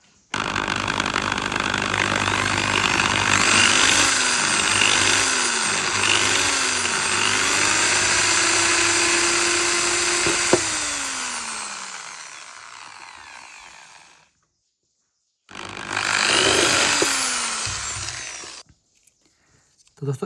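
A power drill with a drill bit bores a hole while working on a car, a loud continuous whine that rises and falls in pitch with pressure, stops, then briefly runs again before cutting off.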